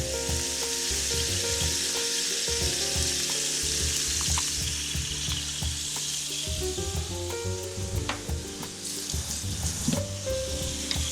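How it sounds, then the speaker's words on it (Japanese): Sake and a tablespoon of sweet bean sauce sizzle loudly in a hot pan for dandan noodles, with steady frying crackle and scraping stir strokes throughout. "これで炒めていきます。"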